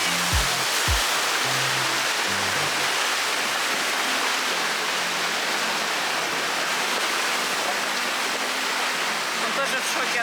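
Steady broad roar of surf and crashing waves on a beach on Ko Lan island, Thailand, fills the whole clip, loud and continuous, with a couple of brief low thumps near the start.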